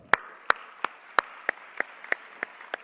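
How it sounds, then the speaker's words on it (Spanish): At a national education forum, a single pair of hands claps in a slow, regular beat, about nine crisp, separate claps fairly close by, with quiet gaps between them. "recibámoslo con un fuerte aplauso"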